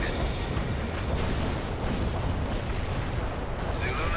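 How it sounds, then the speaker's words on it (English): Artillery shell fire in the video game World in Conflict, a dense continuous roar of rumbling impacts and blasts that layer into a steady, loud barrage. "I suppose that's the advantage of artillery shells"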